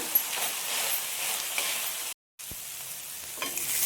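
A spoon stirs fresh grated coconut and chopped coriander into moong and groundnut usli in a pan, giving a steady, close scraping and rustling with a brief silent break midway.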